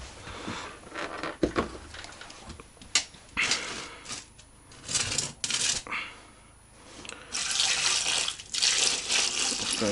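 Cold tap water runs and splashes at an outdoor taiga cabin, where it is poured over boiled potatoes and eggs to cool them, coming in uneven gushes and clatters before a steadier hiss of flow near the end.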